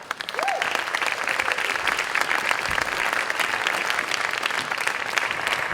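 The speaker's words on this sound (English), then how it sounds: "please give a big round of applause to Ana Serrano." An audience gives sustained, full applause at a presentation, dense clapping continuing evenly throughout, with a brief vocal whoop near the start.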